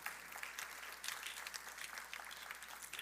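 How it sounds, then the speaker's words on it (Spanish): A church congregation gives a fervent round of applause during a Sunday service, broad clapping that carries on steadily and sounds somewhat distant and faint. "déle ese fuerte aplauso al Señor"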